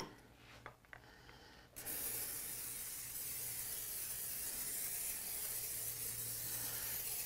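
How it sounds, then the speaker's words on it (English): A few soft rustles, then an olive oil cooking spray can releases a long continuous hissing spray, close by and steady for several seconds. "So here, a little olive oil cooking spray."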